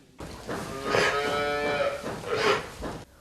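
A cow mooing on a large dairy farm, one long, loud, drawn-out low call that rises and falls, close by and with no talk.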